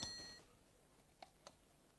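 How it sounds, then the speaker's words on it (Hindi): A clock alarm goes off at 2 a.m., giving a short electronic beep at the start, then a couple of faint ticks and a sharp sound at the very end in a quiet room. "देखिए इस घड़ी का अलार्म 2 बजे बज रहा है"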